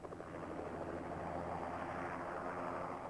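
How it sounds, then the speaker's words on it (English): Steady roar of helicopter engines and rotors, loud and close, a continuous throbbing drone with no voices. "The helicopters take off and head for the start position."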